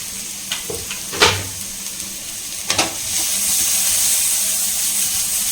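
Onions sautéing in oil for a potato masala samosa filling, a steady hiss of frying with a few stirring clatters early on, the sizzle swelling louder and more constant toward the end.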